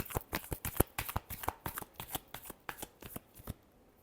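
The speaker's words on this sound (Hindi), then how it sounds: "Last shuffle." Tarot cards shuffled by hand in a quick run of crisp riffling bursts, close and distinct, about a dozen rapid flutters before stopping.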